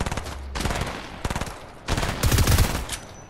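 Rapid bursts of Fortnite video game gunfire crackle in clustered volleys, pausing briefly between salvos before a heavier, louder burst near the end; no talking.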